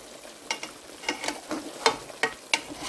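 Chicken salan is stir-fried in oil in a pan, with steady sizzling under repeated sharp spatula scrapes and knocks in an uneven rhythm, close and fairly loud, with no talking.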